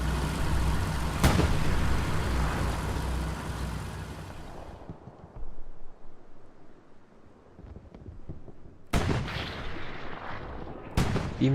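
Gunfire and artillery from the Hell Let Loose war video game during a competitive match: a loud dense barrage of blasts fades after a few seconds into a quieter stretch, then two sharp, heavy explosions burst out near the end.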